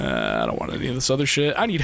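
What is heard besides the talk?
No everyday noise stands out behind the speech.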